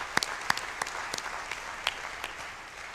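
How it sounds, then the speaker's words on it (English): A conference audience applauds at the closing of the 25th annual ERCA conference, a steady wash of many hands clapping in a large room, with a few louder nearby claps standing out. "So please join me in the round of applause again to Michele and his team."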